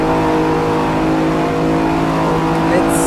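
Lamborghini Diablo VT racing in Assetto Corsa, its engine a loud, steady high-revving drone with strong harmonic bands throughout, someone talking over it.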